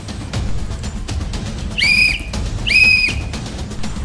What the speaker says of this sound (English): First, two whistle blasts for stopping.